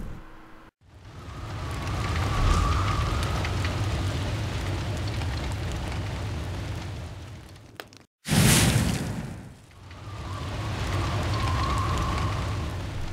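Fire burst effect from the Son of Nor video game: a sustained crackling, roaring whoosh of flames, broken by a sudden sharp burst, then the crackling fire resumes, moderately loud with no talk.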